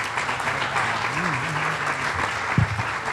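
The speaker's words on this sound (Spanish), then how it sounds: "Fuerte el aplauso de nuevo para estos jóvenes." A crowd applauds young performers at a mental health and suicide prevention event, dense continuous clapping with a brief voice and a low thump near the end.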